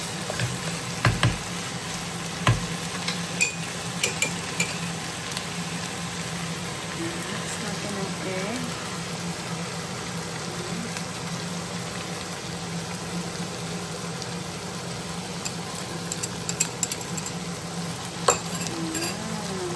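Bitter melon being stirred in a frying pan, with a steady low sizzle and faint scraping and clicks of the utensil running throughout at close range.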